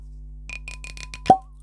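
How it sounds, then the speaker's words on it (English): A cork pulled from a bottle of Dalwhinnie Winter's Frost Highland single malt whisky, a few soft squeaky twists and then one sharp hollow pop, close and clear in a quiet room with no talking. "now how's that for a cork pop?"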